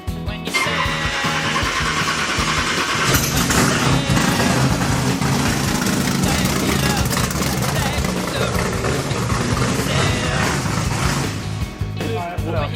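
A big-block engine in a BMW car cranks and catches, then settles into a loud, rough, continuous idle that fills the space for the rest of the stretch.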